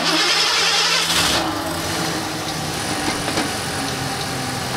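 A Lincoln car engine cranks and catches with a loud burst, then settles into a steady, rough idle that stays up close and fills the rest of the clip. The engine is warm and reluctant to hold its high idle.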